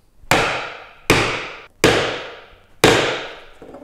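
A chisel is struck four times, evenly spaced, chopping a through mortice in wood. Each sharp, loud mallet blow has a short ringing tail and nobody speaks.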